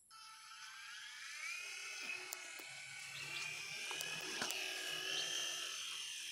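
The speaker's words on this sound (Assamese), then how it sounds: "মই কেমেৰা কৰিও হেলিকপ্টাৰ চলাই আছো" A remote-controlled toy helicopter flies close by, its small electric motor and rotor giving a steady, high whining buzz that holds throughout with slight shifts in pitch, alone without talk.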